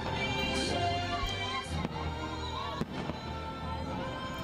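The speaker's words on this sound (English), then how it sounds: "Cannot go wrong with fireworks." Fireworks at EPCOT in Walt Disney World during the 2020 Festival of the Arts, a dense, continuous wash of crackling bursts with a couple of sharper pops standing out, heard loud and steady throughout.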